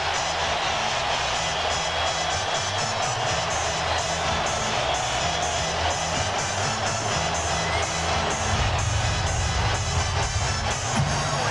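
A basketball arena crowd at a 2001 NBA playoff game between the Magic and the Bucks, rising to its feet with a steady, loud roar of cheering that swells slightly near the end.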